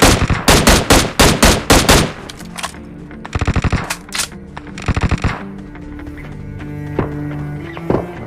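An M16A4 rifle fires in the mobile battle royale game BGMI. A rapid loud burst is followed by two shorter bursts, and game ambience plays underneath.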